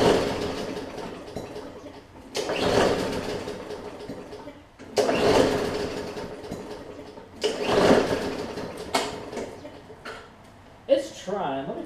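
A Briggs and Stratton engine on a classic Bolens push mower is pulled three times, each with a rising whir that sputters without catching, separated by quiet gaps, close by.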